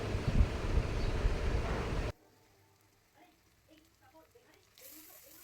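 Chicken and onions sizzle loudly in a pan for about two seconds before the sound cuts off abruptly to near silence.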